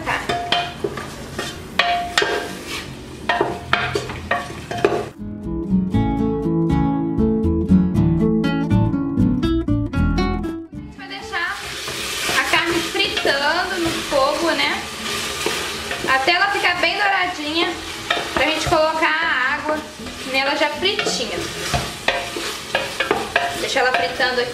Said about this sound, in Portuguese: Misturar pra ela ir fritando junto com a nossa carne.